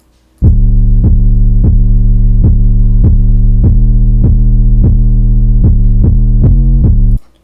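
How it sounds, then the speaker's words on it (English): A heavily boosted 808 bass plays a steady pattern of deep, booming hits, loud and alone, with a droning low tail between notes. "we have this 808 that plays, and for the 808, all I did to it was literally nothing"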